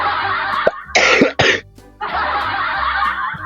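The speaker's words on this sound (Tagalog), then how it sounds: "Nauubo na naman ako." A woman lets out a pair of quick, harsh coughs close to the microphone, breaking into her own talking, which comes just before and resumes right after.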